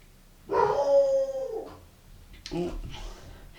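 A puppy lets out a drawn-out howl, followed by a shorter second howl, close and fairly loud.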